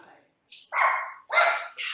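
A few sharp, close dog barks in quick succession, loud and abrupt.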